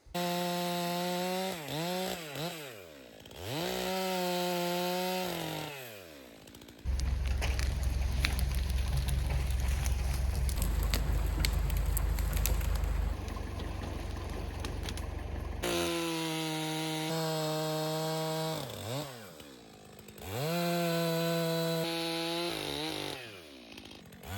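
Chainsaw with a 24-inch bar bucking logs, the engine revving up and dropping back at idle, then a long loud cut bogging into the wood before revving and settling again, close and without talk.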